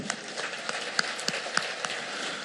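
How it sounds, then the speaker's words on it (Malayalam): Scattered handclaps from a church congregation ring out in an uneven rhythm, moderately close, with no voices over them. "കൈ ഉയർത്തി കൈയടിച്ച്"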